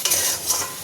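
A spoon stirs vegetarian taro curry with garam masala in a hot pan, giving a short, close, continuous scraping swish over a steady sizzle.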